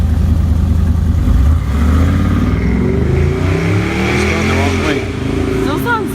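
Car engine revving hard with the stock exhaust closed, loud and close, rising and falling through several pulls while voices talk over it.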